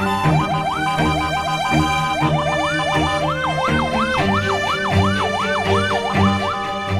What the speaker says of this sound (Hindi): जब कोई इमरजेंसी में हूटर बजाती हुई, शोर मचाती हुई स्पीड में एम्बुलेंस जा रही हो